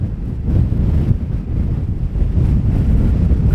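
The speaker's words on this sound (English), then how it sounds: "here I am now at a very windy place" Strong wind on an exposed cliff top above Kildonan at Bennan Head, roaring steadily as a low rumble of gusts buffeting the microphone, with no voices.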